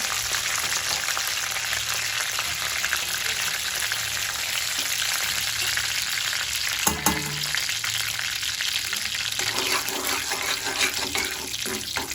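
Mustard seeds spluttering in hot oil: steady sizzle with small crackles and pops throughout, loud and continuous, with faint clinks and stirring sounds partway through.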